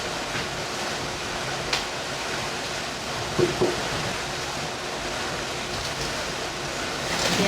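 Steady broadband rush of flowing river water fills the scene, constant and fairly distant, with a few faint knocks and a brief word spoken.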